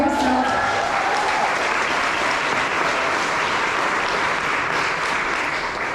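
A crowd applauds author Kevin Kwan at an evening event in Miami, continuous dense clapping that stays loud and even throughout.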